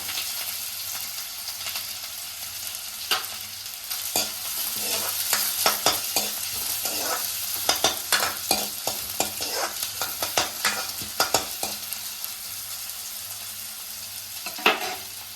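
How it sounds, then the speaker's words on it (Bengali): Chopped onion fries over a low gas flame in a pan, with a steady sizzle broken by repeated scraping strokes of a spoon stirring it, growing busier midway with no talking. "পেঁয়াজটা একটু ভাজা ভাজা হয়ে যাওয়ার পর এর মধ্যে দিয়ে দিচ্ছি গাজরের কুচি।"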